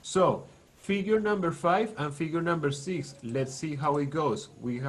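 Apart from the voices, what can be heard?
No everyday noise stands out behind the speech.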